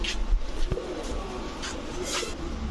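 Soft low cooing from white racer pigeons kept in a loft, a few faint murmuring calls over steady background noise and light rustling, with no speech.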